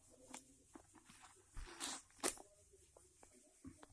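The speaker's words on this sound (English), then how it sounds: "First of all, we have to cut this gift wrapper." A gift wrapper around a thermal engineering book is cut open, producing a few quiet, brief crinkling and tearing rustles with short gaps between them in a quiet room.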